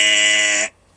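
A single loud, harsh electronic buzzer from the WWE Royal Rumble countdown blares for under a second, then stops abruptly.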